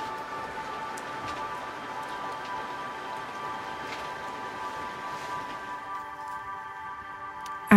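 Steady heavy rain patters on a surface at a backcountry campsite in Yellowstone National Park, a continuous dense hiss with scattered drop ticks, faint tonal hum beneath, and no talking.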